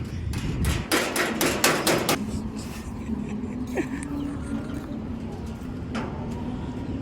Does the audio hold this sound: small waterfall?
no